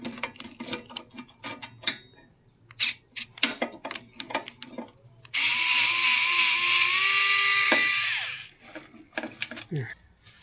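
A power drill loosens bolts during assembly of a personal electric vehicle, one sustained whirring run of about three seconds close by, set among clicks, handling noises and brief speech.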